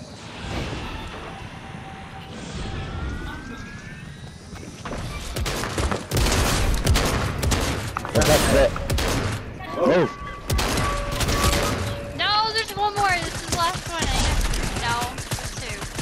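Fortnite gunfire in a busy firefight, with bursts of shots and impacts over a steady game background and scattered effects, moderately loud throughout.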